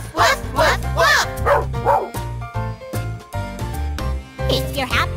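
Bouncy woof sounds ring out over a children's farm-animal song with music, probably voices imitating a barking dog in short rhythmic bursts.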